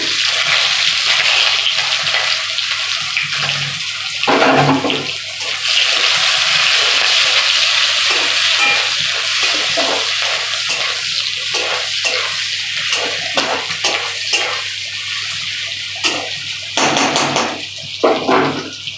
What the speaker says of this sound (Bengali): এবার রান্নার জন্য আমি সর্ষের তেল দিচ্ছি ওই ফোড়নের উপর আমি এই পেঁয়াজটা দিয়ে দিচ্ছি